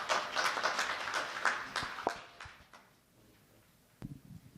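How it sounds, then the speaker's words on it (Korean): Audience applause at an environmental policy symposium panel discussion welcomes the next speaker, a burst of clapping that thins out midway, followed by a few faint isolated sounds. "박수로 맞으시기 바랍니다"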